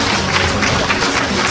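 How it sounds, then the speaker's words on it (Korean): Audience at a Korean book launch event applauds, a dense continuous wash of clapping from a roomful of people, fairly loud and brief, with no distinct voice over it. "한 분 한 분 소개해드릴 때마다 여러분 큰 박수 부탁드리도록 하겠습니다"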